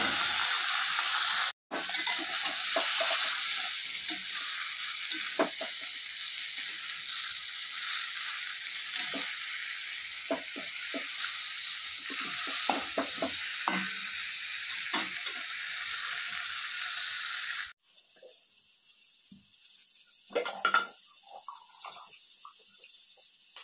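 Fish fries in a pan with a steady sizzling hiss and scattered pops, close by, until the sound cuts off abruptly near the end, leaving quieter kitchen noises and a few knocks.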